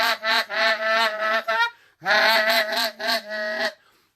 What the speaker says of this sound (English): You can hear how I start to incorporate my voice in that to get the really goosey sounds and the low sounds.